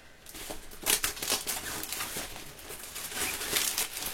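A plastic bag crinkles and rustles close by in bursts of crackly handling noise, fairly quiet, with no talking.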